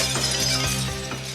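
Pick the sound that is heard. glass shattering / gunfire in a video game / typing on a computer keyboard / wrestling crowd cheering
glass shattering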